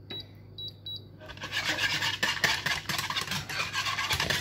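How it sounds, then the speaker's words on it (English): A whisk stirring cheese sauce for macaroni cheese in a pan, beginning after a second of quiet with a few faint chimes, then a steady close scraping and swishing that keeps going to the end. "So I've got to keep whisking."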